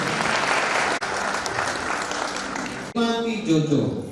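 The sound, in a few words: audience applause at a wedding ceremony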